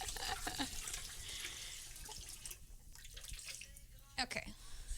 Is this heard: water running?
yes